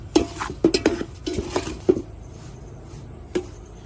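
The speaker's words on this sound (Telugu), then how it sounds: "ముందుగా రవ్వని వేయించుకున్నాం." A metal spoon scrapes and taps against a pan, stirring semolina (rava) as it roasts for rava kesari. The clinks are sharp and irregular, about eight of them, with quieter pauses between.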